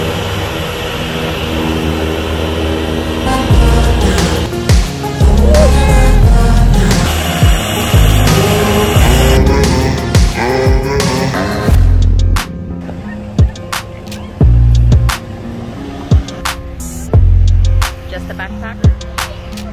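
A golf cart drives along a road near the shore in sunny Costa Rica, with a loud rushing motor and wind noise. Sharp bumps and rattles punctuate it, steadier at first and choppier later.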